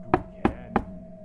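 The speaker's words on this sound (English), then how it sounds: "Bennie's just going to bang on the door." Three heavy knocks bang on a door in an even rhythm, each a sharp close thud with a short ring of room echo.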